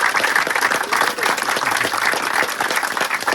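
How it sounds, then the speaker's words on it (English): A crowd applauds loudly and continuously at an outdoor bill signing ceremony at Forest Lake State Park, New Hampshire, dense clapping filling the whole stretch without a break. "So thank you, round of applause."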